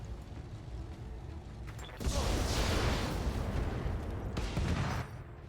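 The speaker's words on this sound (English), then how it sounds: "The commando is in a position to fire on the Jenner, and we are going to do so" Weapon fire aimed at a Jenner mech in the RogueTech battle game: a dull mechanical rumble gives way to a fairly faint, sustained roaring blast of fire lasting a few seconds, then it drops back.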